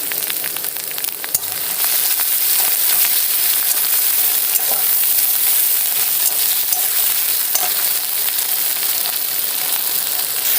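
Ginger garlic paste and onions sizzle and fry in hot oil in a pan, a steady, close crackling hiss with occasional stirring scrapes throughout, no voices.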